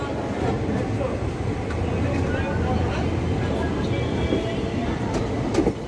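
A passenger train pulls out of platform two at Naihati Junction on the Kolkata to Tarapith line, giving a steady, continuous rumble of wheels and carriages heard from on board.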